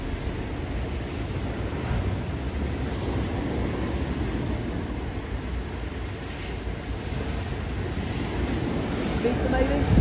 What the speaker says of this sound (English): Look at the sea, so rough.